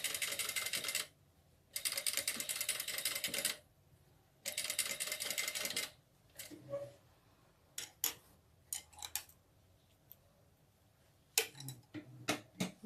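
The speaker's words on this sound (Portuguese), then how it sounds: "nós vamos lá na máquina, num pontinho 2 aí, e vamos passar a costura só aqui na gola" A sewing machine running a short stitch along a dress collar, in three fast rattling bursts, followed by quieter clicks and taps as the fabric is handled.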